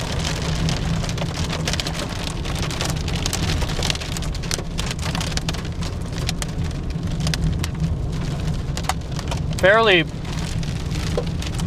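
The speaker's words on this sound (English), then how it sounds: "Got some hail." Hail and rain patter densely on a car during a Colorado supercell storm, a constant rattling roar with a low engine hum beneath, and a voice speaks briefly.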